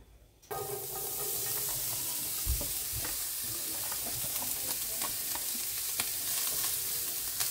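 Potatoes for corned beef hash fry in a pan with a steady close sizzle that starts abruptly and holds, broken by occasional stirring clinks and scrapes.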